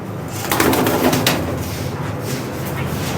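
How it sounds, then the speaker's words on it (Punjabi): Pigeons at a house coo softly and repeatedly at close range, a low murmuring call with faint background voices. "ਆਹ ਕਾਲੀ ਜਿੰਨੀ ਕਬੂਤਰ ਆ"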